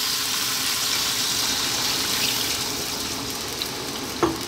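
Plain water pours steadily into a soup pot of carrots and coriander, a continuous splashing hiss that holds even throughout, ending with a soft clunk.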